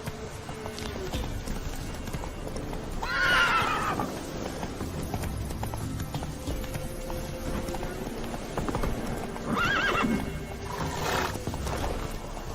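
Horse Roach in The Witcher 3: Wild Hunt, two loud neighs a few seconds apart over steady galloping hoofbeats and game ambience.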